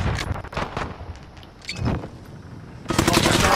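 Pistol shots in a video game fire in quick irregular bursts, loud and close, with a dense volley near the end.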